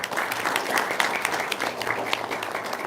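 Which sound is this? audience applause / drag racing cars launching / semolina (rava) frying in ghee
audience applause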